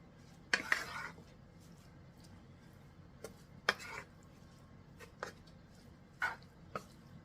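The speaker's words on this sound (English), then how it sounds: "So I'm just going to stir this in the mixture." Occasional clinks of a spoon against a dish while cheese is stirred into a sausage casserole mixture, a handful of separate scraping taps over a quiet kitchen background.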